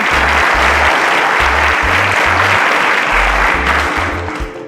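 A studio audience at a quiz show gives a loud, sustained round of applause for a contestant, dense clapping running steadily throughout and tapering slightly at the end, with a low rhythmic music bed pulsing beneath.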